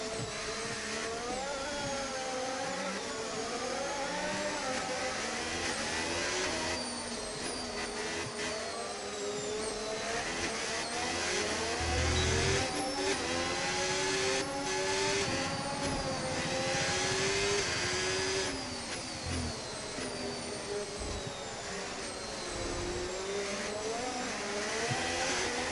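Formula 1 race car engine in F1 25 revs hard and continuously, pitch climbing and dropping through repeated downshifts and bursts of acceleration, loud and close with no talking.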